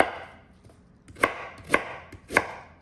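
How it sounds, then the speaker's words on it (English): A knife roughly chops fresh ginger on a cutting board, giving three sharp, evenly spaced cuts up close against a quiet background. "now I'm just gonna roughly cut the ginger then"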